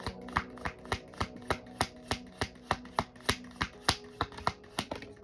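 Rapid, evenly spaced riffling snaps of a thick card deck being shuffled, close and crisp, repeating steadily with no talking.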